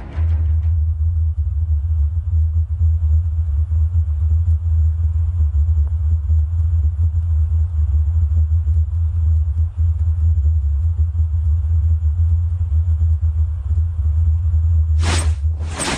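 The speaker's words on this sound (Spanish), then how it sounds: "sus habitantes escuchan un extraño zumbido por las noches" A strange nighttime hum near the small town of Gutland resembles a car engine: a deep, steady low rumble that drones on unchanged, with a brief higher whooshing burst near the end.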